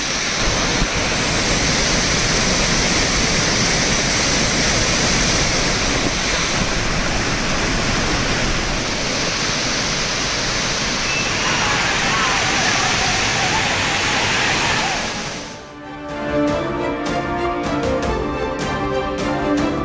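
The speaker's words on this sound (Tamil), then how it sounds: "ஒகேனக்கல் அருவியில் மீண்டும் வெள்ளப்பெருக்கு ஏற்பட்டுள்ளதால் குளிப்பதற்கு தடை." The flooding Hogenakkal waterfall on the Cauvery river, swollen with high water, roars as a loud, dense, continuous rush for about fifteen seconds before it cuts away to music.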